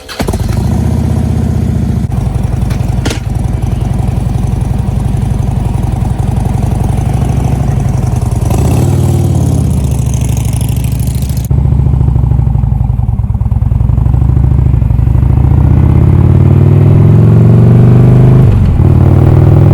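A 2009 Harley-Davidson Ultra Classic motorcycle idles loud and close with a steady, deep, lumpy rumble, then the throttle rises into a stronger rev about halfway through and holds there, with no talking over it.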